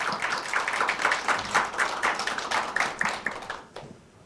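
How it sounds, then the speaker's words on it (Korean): An audience at an economic and political academy lecture claps to welcome a lecturer, a moderate, steady round of many hands that thins out and stops near the end. "다시 한번 힘찬 박수로 환영 인사드리겠습니다"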